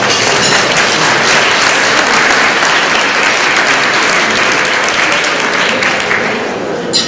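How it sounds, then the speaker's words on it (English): Sustained audience applause at a Black History Month banquet and awards dinner, a dense, steady roar of many hands clapping that holds for several seconds and eases off slightly at the end, with no talking over it. "I just want to, again, give a round of applause to the young lady that there are in this room"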